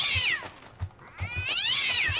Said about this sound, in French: Pourquoi ça fait un bruit de chat?